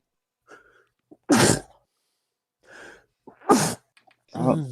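Two sharp sneezes burst out close by, each preceded by a quick inhaled breath, with soft breathing and small vocal sounds between them.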